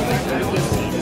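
Crowd chatter on a street in Amsterdam's red light district, a close, steady babble of many overlapping voices with no single voice standing out.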